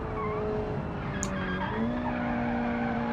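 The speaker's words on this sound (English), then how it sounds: "at least I spun out once by downshifting without blipping" A car spins out in an automotive driving game after a downshift without blipping the throttle, giving a steady engine drone with shifting tonal whine and continuous tire squeal and skidding over about three seconds, no talk.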